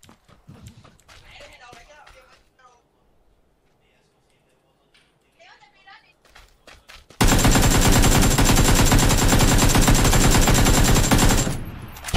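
Sustained automatic gunfire in a video game, a loud dense burst lasting several seconds after quieter scattered sounds and brief talk.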